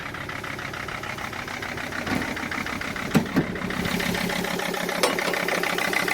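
A cold engine in a Shorty idles roughly and stumbles with an injector unplugged, a steady mid-pitched running drone broken by a few sharp clunking knocks, close and loud with no talk.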